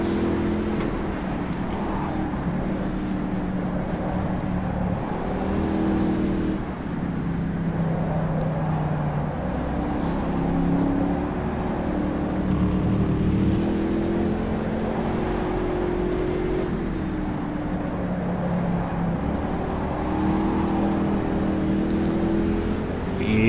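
Engine of a Panoz Roadster driven at Putnam Park in the racing game rFactor 2, a steady, full-bodied drone held at fairly even revs throughout with no talking.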